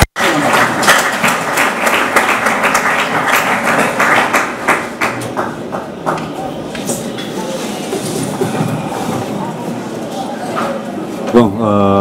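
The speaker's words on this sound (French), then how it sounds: "Avec l'acclamation, nous allons accueillir" Loud, dense audience applause greets a visiting Cuban ambassador at a university event in the DRC, starting at full strength and then slowly thinning out, with a voice emerging near the end.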